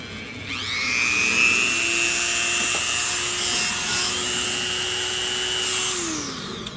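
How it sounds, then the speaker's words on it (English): A standard Dremel rotary tool trims fiberglass tweeter pods, its motor rising to a high steady whine with a rough grinding edge for several seconds before spinning down at the end. "Using a standard Dremel."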